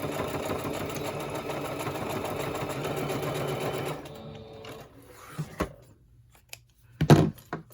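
Sewing machine stitching through a pouch made from book pages, a fast steady whirring run for about four seconds that stops, followed by a few scattered thumps and a louder clunk as the work is handled.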